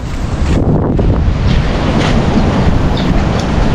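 Loud, steady roar of wind and surf at a muddy, brown sea during a flood, buffeting the microphone with no pauses and no voices.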